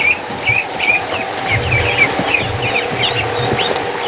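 Muscovy ducklings chirp in repeated high peeps as they are herded outdoors through a gate, with a steady outdoor background and low rumbling underneath.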